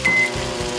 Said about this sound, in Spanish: Los frijoles hay que meterlos al microondas ya.